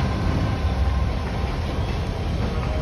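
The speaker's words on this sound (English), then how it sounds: "now I can't cross because there's a train going through." A train passes on railway tracks in a forest area, a steady loud rumbling roar of rolling wagons that stays constant and close throughout, with no voices.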